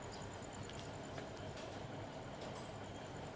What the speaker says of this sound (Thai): ขบวน424นะครับ จอดแล้วนะฮะที่สถานีลำชี